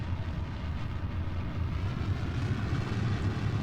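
A rocket's main stage engine in Kerbal Space Program roars as a steady, dense low rumble that holds constant and fairly loud throughout, with no talk.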